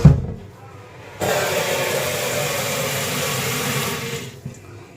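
Water pours steadily into a metal idli steamer pot in a home kitchen, a broad continuous rush lasting a few seconds and then tapering off.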